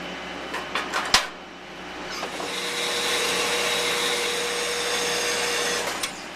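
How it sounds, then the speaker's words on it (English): An angle grinder works down a MIG weld on a wrought iron hand rail: a few sharp knocks and clanks, then a steady, loud, high-pitched grinding whine for about four seconds that cuts off at the end. "now it's just a matter of grinding this down, cleaning it up"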